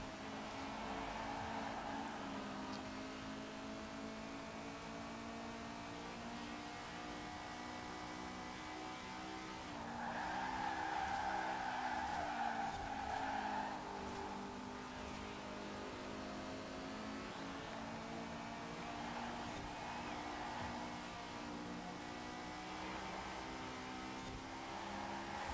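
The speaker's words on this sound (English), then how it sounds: "I love how high this engine's revs on this car." A Lamborghini engine revving high in Forza Horizon 4, a sustained engine tone with rising and falling pitch and a louder surge midway, heard faintly and steadily throughout.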